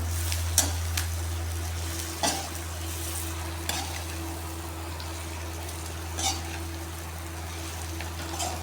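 Bitter gourd rounds fry steadily in a pan, a soft continuous sizzle with a low hum beneath and a few sharp clinks of a spoon stirring against the metal.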